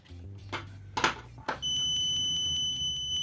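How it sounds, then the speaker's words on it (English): A BSIDE ADMS9CL budget multimeter gives a steady, continuous continuity beep while probing a 0.5 ohm resistor, following a few brief handling clicks and clatter. "it's giving us that continuity beep"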